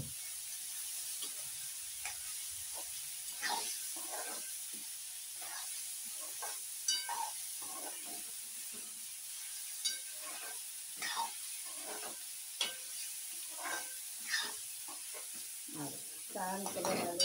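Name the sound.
stir-frying raw banana vegetable in pan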